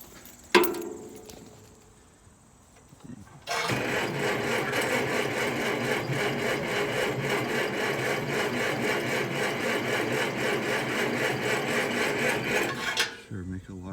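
A vehicle engine cranks after the ignition is switched on, a long steady rapid rasping churn that runs for about ten seconds and then cuts off abruptly, preceded by a brief click and quiet.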